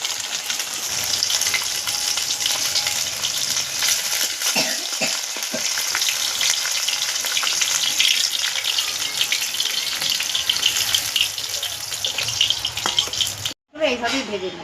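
Small fish fry in hot oil, a constant dense sizzle close at hand with a few stirring scrapes, briefly cut off near the end before the crackle picks up again.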